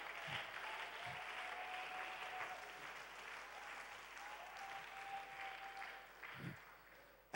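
Congregation in a church clapping their hands together, a sustained wash of applause that carries on steadily, with a few faint voices underneath.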